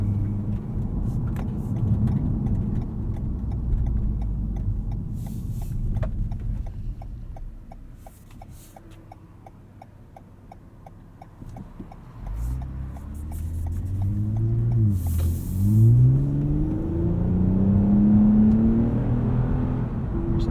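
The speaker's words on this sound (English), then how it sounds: "First taste of that catback exhaust." Engine of a 2020 Toyota Camry TRD V6 building revs through its catback exhaust, a low steady drone that dips, then swells into a rising, louder growl near the end as the car pulls away.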